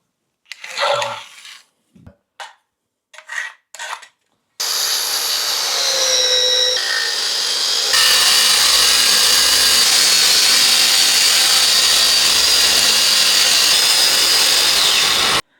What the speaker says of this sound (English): This is my turbo wall chaser vac.